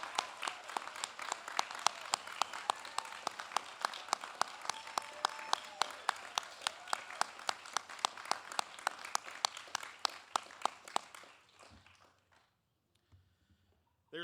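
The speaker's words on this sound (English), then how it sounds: "Would you please join me in a round of applause for the graduates of Boatswain Aid School 2409 and the newest Boatswains of the United States Coast Guard" A crowd applauds the newest boatswain graduates at a United States Coast Guard school graduation ceremony, steady crisp clapping that carries on for about eleven seconds before dying away into near silence.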